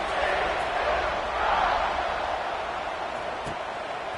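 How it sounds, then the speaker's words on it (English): A stadium crowd in the NCAA 26 college football video game gives off a steady, broad roar after a score, loud and continuous with no break. "this crowd is buzzing after that last score"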